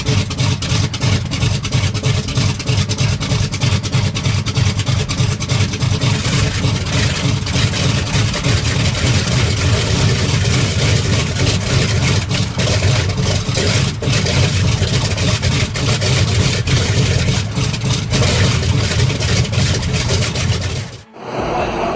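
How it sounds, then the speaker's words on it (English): Four radial engines on a 1940s-era aircraft run together after startup, a loud, steady, deep droning roar that holds near and constant throughout, dipping briefly just before the end. "once all four radial engines ignite in harmony, the aircraft delivers a synchronized low-frequency resonance"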